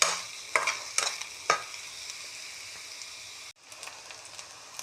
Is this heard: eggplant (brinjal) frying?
yes